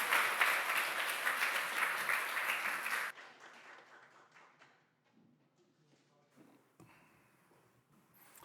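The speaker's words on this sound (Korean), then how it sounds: "박수로 다시 한번 축하해 주시기 바라겠습니다" Congregation applause at an Easter Sunday church service, a loud dense burst of clapping for about three seconds that cuts off, followed by quiet room noise and faint shuffling.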